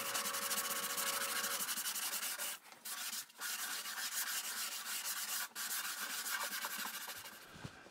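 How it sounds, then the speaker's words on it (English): A sanding sponge rubs by hand across a maple fireplace hearth, making a steady, close, gritty scratching with brief pauses and slight changes in stroke, loud and alone. "So I've stripped the tape off and I've hand sanded this hearth here"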